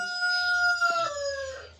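A young homestead-hatched rooster crows once, close and clear, a drawn-out call with a rising and then falling ending.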